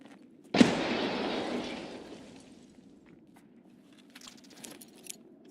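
A grenade blast in Escape from Tarkov, a single sudden loud boom that rolls and rumbles away over about a second and a half, followed by faint scattered clinks and small noises.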